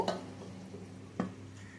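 Papaya bora curry is stirred in a pot at home, with two clear metal clinks of spoon and pot against soft stirring and faint simmering. The pot is then covered, and no one speaks.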